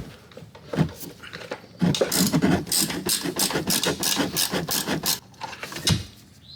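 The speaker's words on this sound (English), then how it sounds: "It can be done with a open-ended ratcheting wrench." Open-ended ratcheting wrench working on 18 mm bolts during a front strut install on a Chevy Colorado, giving a steady run of close, sharp clicking ratchet strokes with short pauses between bursts.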